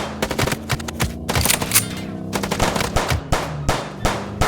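Rapid automatic gunfire from the video game Chicken Police, loud and close, in dense clattering bursts with brief gaps, layered over a low engine-like hum throughout.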